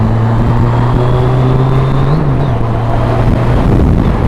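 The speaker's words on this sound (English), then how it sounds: "Excuse me while I overtake these guys." Steady engine drone from inside a vehicle overtaking others on the road, with a sustained low hum that shifts in pitch as it accelerates, loud and continuous with no talk.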